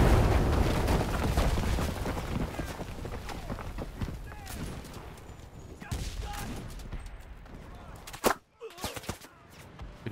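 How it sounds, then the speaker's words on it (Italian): Heavy artillery barrage and bomb blasts in the World War II shooter Enlisted during a D-Day beach assault, a dense, continuous roar of explosions and rumbling fire with one sharp loud blast near the end. "Qua continuano a cadere bombe"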